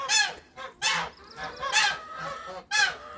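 A gander shut alone in a separate pen in light rain, apart from his geese, gives four loud harsh honks in quick bursts, close and alone.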